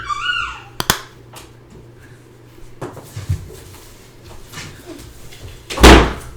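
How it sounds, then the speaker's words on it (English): A door opening in a busy home with toddlers around, heard as a sharp knock near the start and a louder thump near the end, with background voices and household clatter throughout. "Open the door"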